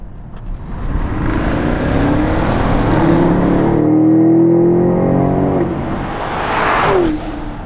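2020 BMW X6 M50i with a 4.4-liter twin-turbo V8 pulling hard: a swelling engine roar rising in pitch through gears, a shift break midway, then easing off, loud and close with no talk.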